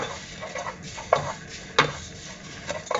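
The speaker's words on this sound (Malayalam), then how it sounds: "ഈ സേമിയ നമുക്ക് ഇതിനകത്തോട്ടൊന്ന് റോസ്റ്റ് ചെയ്തെടുക്കാം നെയ്യിൽ." Vermicelli roasting and being stirred in ghee in a pan, with scattered scrapes and a few sharp metallic clinks of a spoon against the pan, fairly close and moderately loud, no talking.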